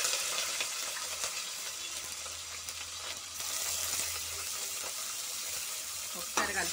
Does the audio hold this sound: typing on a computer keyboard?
no